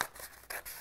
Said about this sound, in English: we're just gonna get our scissors, or a pair of scissors, and start cutting